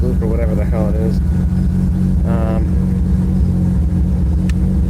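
A 1995 Mazda RX7 engine idles cold and slightly unsteady, a loud steady low rumble running throughout, while a person talks briefly over it.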